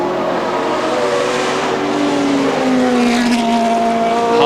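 Formula One cars at the 1970 British Grand Prix at Brands Hatch roar past in a steady, loud engine drone, with pitch sweeping slightly as the sound swells toward the end and no talk.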